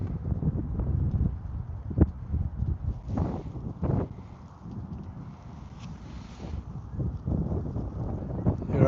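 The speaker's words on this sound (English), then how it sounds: "This wind is picking up." Wind gusts over open water around a fishing boat, a rough rumbling buffet against the microphone that rises and falls, with scattered knocks and brief faint sounds between the gusts.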